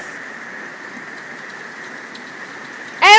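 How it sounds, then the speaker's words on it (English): Rain falls during a thunderstorm as a steady, even hiss that holds at a moderate level throughout. A voice breaks in loudly at the very end. "And it's raining, thundering, and lightning out."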